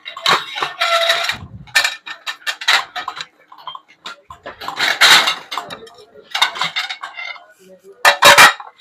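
Ceramic plates clatter as they are set two at a time into a metal kitchen plate rack, with several sharp clinks and scrapes in bursts, close and fairly loud, while someone talks between the placements.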